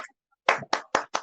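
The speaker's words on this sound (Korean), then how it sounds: "축하드립니다. 박수 부탁합니다." Audience applause at a Korean literary magazine's anniversary award ceremony, heard as four or five short, loud bursts of clapping separated by brief pauses, with no talk over it.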